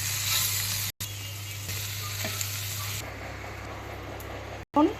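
Bitter gourd fries in a pan with a dense, continuous hissing sizzle that is loud and close, broken by two brief abrupt dropouts, with a low steady hum underneath.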